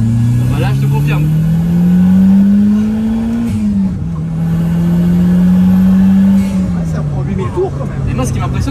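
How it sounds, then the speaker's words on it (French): A Carver One tilting three-wheeler drives along with a steady engine drone that rises and falls with the throttle, turbo whooshes and blow-off hisses on top, while a person talks over it close by. "ce qui m'impressionne, c'est vraiment le bruit du turbo qui est juste"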